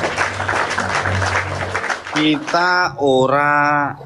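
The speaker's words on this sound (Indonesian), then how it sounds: "kasih tepuk tangan" A crowd at a religious talk gives a short round of applause, roughly two seconds of busy clapping that stops abruptly as a voice begins speaking loudly and clearly.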